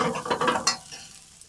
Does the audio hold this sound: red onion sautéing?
yes